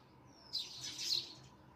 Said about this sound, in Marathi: ही बघा कशी घरटी लागलेली आहे आणि कशा या चिमण्या यामध्ये येऊन आपला संसार थाटतात